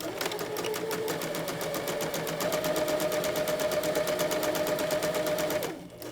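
A sewing machine stitches a 5/8-inch fabric seam for a maxi skirt, a rapid, even mechanical rattle running steadily up close before stopping abruptly at the end.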